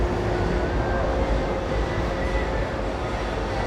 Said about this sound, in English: Maybe we'll wait for a train to go by.